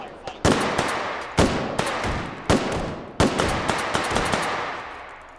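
Enemy sosigs fire guns in H3VR, a VR shooter: loud, sharp single shots crack out at irregular intervals about a second apart, each trailing a ringing echo, then a few softer reports follow.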